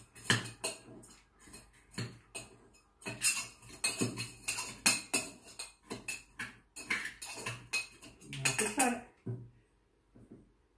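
Sugar, pepper and other ingredients are crushed with a muddler in a glass for a cocktail, a series of close, sharp knocks and grinding scrapes in uneven clusters with short pauses between.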